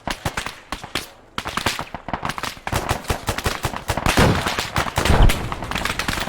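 Dense gunfire barrage in the military shooter game Arma 3, rapid overlapping shots and bursts crackling continuously for several seconds, loud and close with heavier thumps near the end.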